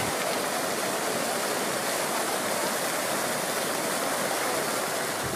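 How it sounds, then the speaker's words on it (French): A large park cascade and fountains pour water in a dense, unbroken rushing roar that stays loud and even throughout, with no voices. "la grande cascade et puis deux autres cascades plus petites qui constituent les grands axes de ce grand parc"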